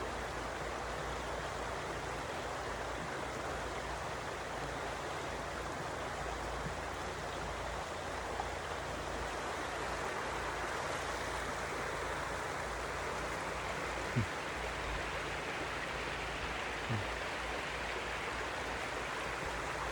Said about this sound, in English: the sound which you're hearing, just like the sound of the creek,